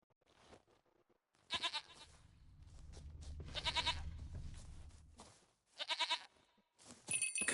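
A goat in The Witcher 3 video game gives several loud, wavering bleats in bursts, separated by short gaps, with a low rumble and faint ambient sounds between the calls.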